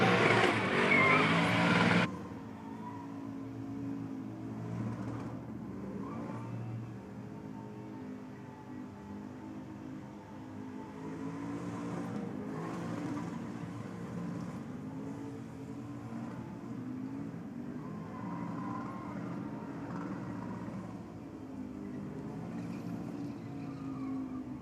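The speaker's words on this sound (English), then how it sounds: "Just goes to show, you don't have to be a super loud car to do a cool burnout." Car doing a burnout, a fairly quiet engine revving with tires spinning and squealing on pavement, heard from a distance as a sustained roar with brief louder bursts near the start, no talk.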